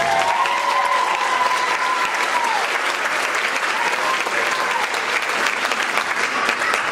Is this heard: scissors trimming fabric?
no